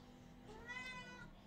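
A house cat gives a single drawn-out meow indoors, faint and fairly close over a low steady background hum, with no talking.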